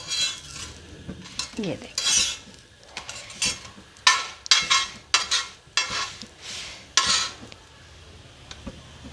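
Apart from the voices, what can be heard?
paratha being roasted on both sides on a griddle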